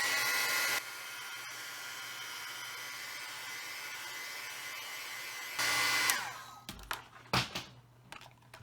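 Hair dryer blowing on watercolor paper in a steady, loud whooshing hum that drops to a lower setting, briefly rises again, then switches off, followed by a few faint clicks and handling noises.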